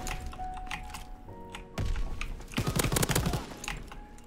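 Bursts of rapid MG-42 machine gun fire in a World War 2 shooter game, loud and close, with dense clattering volleys in the second half amid other battle noise.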